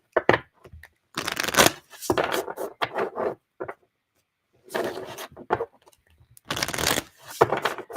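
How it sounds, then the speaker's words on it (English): A deck of cards being shuffled during a live tarot-style collective reading, with repeated bursts of riffling and bridging separated by short pauses, close and fairly loud, with no talking. "I feel like shuffling this deck like 5 times"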